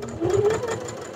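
A sewing machine runs steadily, stitching the lining seam of a honey bucket bag in one continuous pass, its motor whirring close and fairly loud through the whole short stretch with no talk over it.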